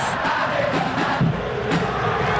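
Stadium crowd in the football video game PES 2025 reacting to a shot, a steady dense roar with brief swells of raised voices, loud and continuous throughout.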